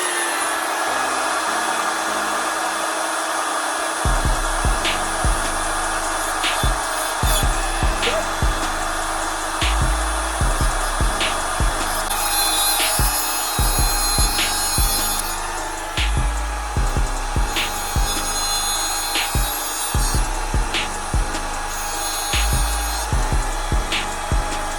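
Fuel line being cut with a noisy power tool over a loud steady motor hum, with repeated short low thumps and rasping bursts as the braided line is worked through.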